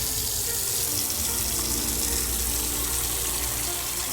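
Water pours steadily into a container in Autopsy Simulator, a loud, continuous rushing gush that fills the whole moment without break.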